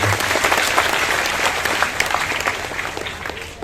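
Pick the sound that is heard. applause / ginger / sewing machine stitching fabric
applause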